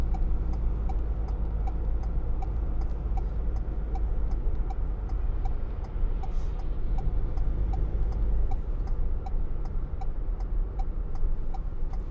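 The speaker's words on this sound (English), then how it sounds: "I'm going to start indicating early, because otherwise these cars will bunch up behind me." A turn-signal indicator ticks steadily inside a 2019 Ford Transit Custom 2.0 TDCi van, a regular, evenly spaced clicking over the continuous low road and engine rumble of the moving vehicle.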